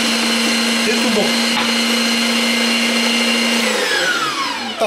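A blender grinds chicken liver and pork throat for a poultry liver terrine, a steady loud motor whine running almost throughout before winding down at the end.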